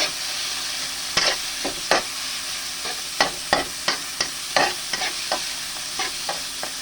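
Bite-size chicken sautéing in a pan sizzles steadily up close, broken by repeated sharp scraping stirs at an irregular pace, about one or two each second.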